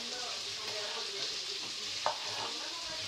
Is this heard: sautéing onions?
yes